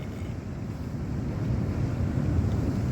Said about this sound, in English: Those waves are crashing right over now.